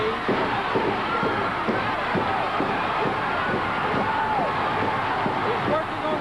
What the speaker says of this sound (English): Remember this crowd, they're coming alive.